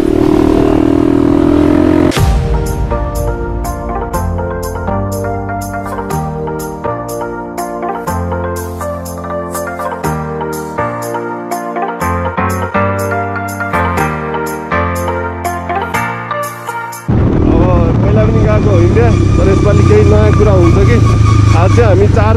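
A motorcycle rides slowly along a muddy road on the way from Nepal to Raxaul, Bihar, its engine note running steadily and loud up close, with music playing over much of the ride.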